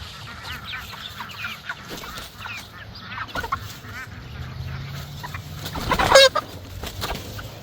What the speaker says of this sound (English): So these chickens have been doing some work out here.